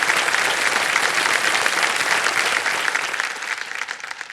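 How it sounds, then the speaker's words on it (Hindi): Kaun Banega Crorepati studio audience members break into loud, dense clapping for a contestant, and the applause thins out and fades over the last second. "तालियां बज जाए इनके लिए, फिर से सुनाएंगे ये कुछ"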